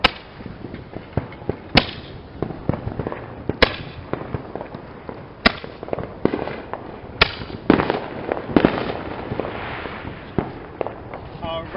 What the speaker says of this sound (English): that's the last of the Roman candle